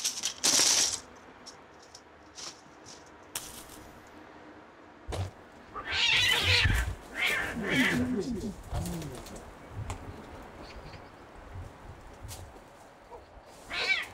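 Unneutered male cats yowl and cry out repeatedly during breeding season, long drawn wails with some short meows, moderately distant in a quiet outdoor neighborhood.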